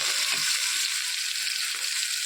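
Tomatoes, dried onion, garlic and green chillies fry in oil for a pea and potato sabzi, giving a steady, close, continuous sizzle and hiss with no voices.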